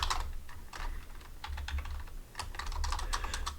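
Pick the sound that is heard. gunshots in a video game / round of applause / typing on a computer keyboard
typing on a computer keyboard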